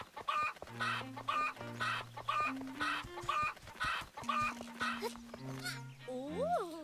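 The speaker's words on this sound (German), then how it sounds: "Da ist der letzte Hühnerbruder." Chickens in the video game Zelda: Echoes of Wisdom cluck in a steady run of close, loud, repeated calls over light game music, ending on a rising chirpy flourish.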